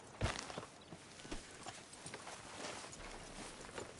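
Horse hooves clip-clopping at a walk in a video game, a fairly faint, steady series of soft hoofbeats with a louder thud at the start, heard alone without talk.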